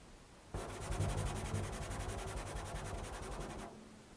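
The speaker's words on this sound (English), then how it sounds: "involves scraping the drum with the soft part of the finger." A fingertip pad scraped across a drumhead gives a steady, soft, breathy rubbing noise that runs for about three seconds and then stops, with no voices.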